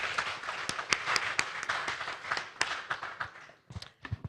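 Audience applause at an embassies forum after a Q&A session, a fairly faint, dense patter of clapping from a modest crowd that thins out into a few scattered last claps near the end.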